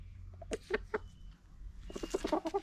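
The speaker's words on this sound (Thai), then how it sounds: "ไก่ต่อนี่คือไก่ต่อนะครับ" A tame decoy rooster clucks in short, separate calls, then a quicker flurry of clucks, close by against a low steady hum.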